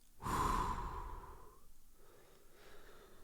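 One slow, audible breath drawn in and released close to the microphone, a long soft airy whoosh that fades gently into a quiet, hushed background.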